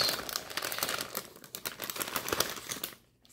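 Papers from a nail kit box are handled, crinkling and rustling in quick, irregular bursts close by, then fading to near silence.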